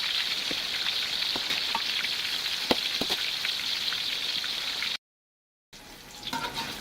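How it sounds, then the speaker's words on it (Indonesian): Sliced bananas deep-frying in hot oil give a steady, close sizzling hiss with small pops and crackles; the sound cuts out briefly near the end, then resumes. "goreng sampai semua pisangnya habis"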